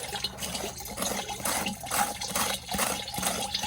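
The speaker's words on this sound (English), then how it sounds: "Scraping the sieve to get the particles through." Glaze is scraped through a sieve to push the particles into the dipping glaze, giving a rapid, wet, rhythmic rasping and sloshing close by, continuous for a few seconds.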